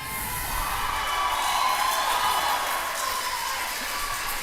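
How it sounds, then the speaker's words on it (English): A crowd cheers for New Zealand at an indoor bowls match, a steady, broad roar of voices that holds at an even level without a break. "that's a big cheer for New Zealand"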